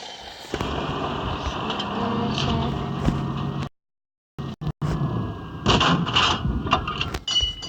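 SU-85 tank destroyer in a tank video game, sharp gun blasts punctuating a busy battle soundscape, with a near-silent gap midway before more shots and impacts.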